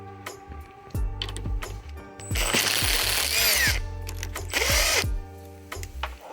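A power drill revs up in bursts, whirring and grinding against metal as it drills out a bolt at the power steering reservoir of a Coyote-swapped early Bronco, with clicks and chatter between runs; loud and close.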